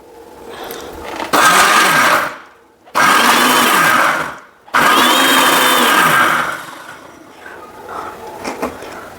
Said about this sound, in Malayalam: അരച്ചെടുക്കാം മുളക് ചമ്മന്തി